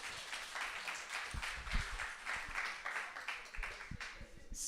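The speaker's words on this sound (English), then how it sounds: "Go on, give him a round of applause." Faint applause from a conference audience welcoming a guest on stage, a soft scattered patter of clapping heard from a distance, with occasional louder individual claps.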